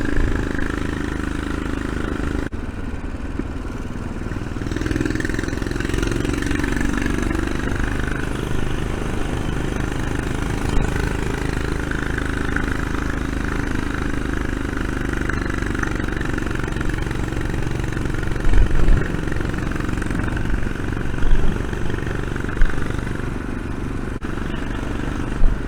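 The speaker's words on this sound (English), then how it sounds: "I do like the sound of a single cylinder engine." A single-cylinder motorcycle nicknamed Thumper rides steadily near the Staffordshire–Derbyshire border, its low, throbbing exhaust note loud and close and constant throughout, with no talking.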